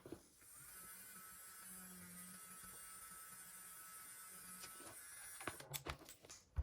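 Electric nail drill at about 10,000 rpm removing gel nail polish, a faint, steady, close buzzing whine that runs throughout and ends with a few sharp scraping taps.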